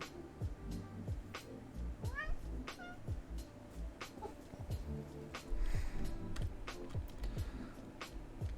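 A male house cat meows repeatedly at close range, a series of short rising and falling cries spread across the stretch, with a person speaking softly in between and faint background sounds.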